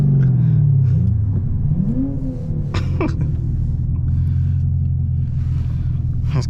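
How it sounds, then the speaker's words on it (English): A nearby car engine revs in short bursts, rising and falling over a constant low rumble from a Camaro ZL1 with a 6-speed manual, loud and close. "I think she's trying to rev it."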